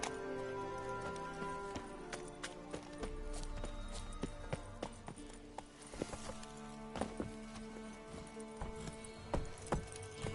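Roach the horse galloping in The Witcher 3, with steady rhythmic hoof clip-clops throughout, growing sharper and more distinct in the second half, moderately faint, with no talk.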